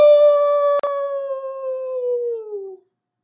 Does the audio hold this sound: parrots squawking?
no